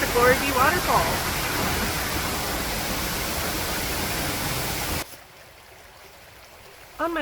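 Steady broadband rush of Glory Bee Waterfall in northwest Arkansas fills the first five seconds, then drops to a quieter, muffled hiss before a brief loud burst returns at the end.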